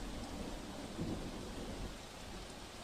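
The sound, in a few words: rushing floodwater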